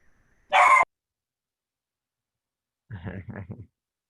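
One loud close dog bark rings out sharply, followed after a pause by a person speaking briefly.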